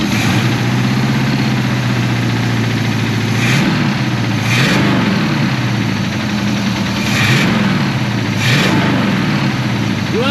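An abandoned 1984 Chevrolet Monte Carlo race car's engine running up close and loud, a rough idle broken by several sharp revs that rise and fall back, with no talk over it.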